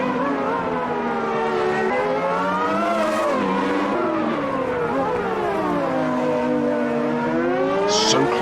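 Formula One race cars in a video game chase Prost's Ferrari, their engines whining loudly and continuously as the pitch rises and falls through gear changes, with a short tire squeal near the end.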